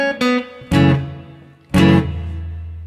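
A guitar plays a full song phrase, melody notes joined by accompanying chords: a few picked notes, then two strong chordal strikes that ring out and decay, close and alone.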